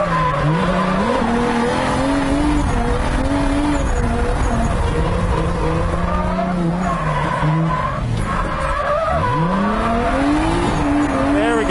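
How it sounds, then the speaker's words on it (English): A big-turbo 2JZ-swapped 240SX roars continuously while drifting, its engine stuttering against the rev limiter amid screeching tire squeal, loud and close throughout. "Oh, the rev limiter is amazing."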